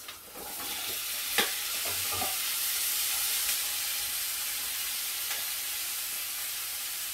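Courgettes, carrots and tomato pulp cooking in a pan give off a steady, even sizzle and hiss, with a couple of brief stirring knocks near the start and no talk.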